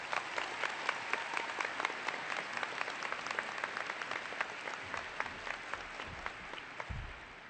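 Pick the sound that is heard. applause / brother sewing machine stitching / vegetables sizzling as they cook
applause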